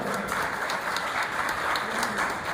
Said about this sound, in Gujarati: એમને તાળીઓથી વધાવો.